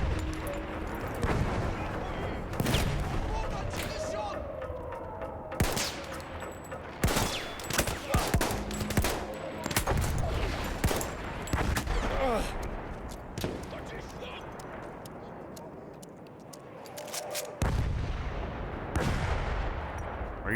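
Gunfire in Battlefield 1, repeated sharp shots and bursts from near and far throughout a long firefight, with someone talking over the battle.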